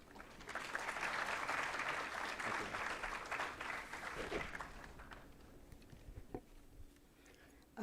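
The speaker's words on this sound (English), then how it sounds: "Give ma'am a huge round of applause" Audience applause at an international biotechnology conference at a university department, a dense burst of clapping that holds steady for several seconds, then thins to scattered claps and fades into quiet room noise.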